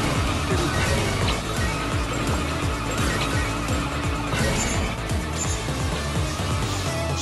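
Karts race in Chocobo GP with a steady, loud engine drone, repeated rhythmic pitch sweeps and scraping tire noise while drifting through a course, with no voices.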